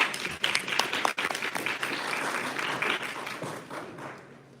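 A room full of supportive listeners breaks into hand clapping, a busy, mid-distance wash of applause that swells early and then gradually tapers off.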